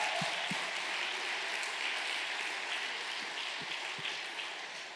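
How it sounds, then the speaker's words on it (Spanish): A church congregation claps together during a service, a fairly soft, steady patter of applause with a few sharper hits, fading slightly toward the end. "Sí, vamos a aplaudirle."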